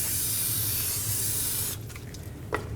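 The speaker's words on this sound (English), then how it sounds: "Use a little brake parts cleaner." Brake parts cleaner is sprayed onto the surface of a brake rotor from a 2000-06 GMC Yukon: a close, steady aerosol hiss lasting under two seconds, then it stops, leaving a faint handling sound.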